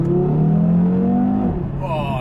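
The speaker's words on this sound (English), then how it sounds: "This car fitted with the sports exhaust, meaning it sounds as good as it looks." A loud sports car engine revs hard, its throaty exhaust note climbing steadily before dropping sharply as the next gear engages, then pulling again.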